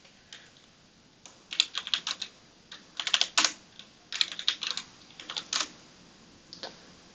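Keys clack in quick irregular bursts on a computer keyboard as a new password is entered, close and crisp, with short pauses between runs and no voices.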